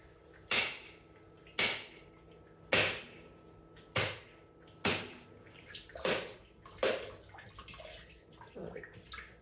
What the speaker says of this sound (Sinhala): ඉතින් ඔන්න ඔය විදිහට තමයි මම පොල් ගෙඩි ටික බින්දින්නේ.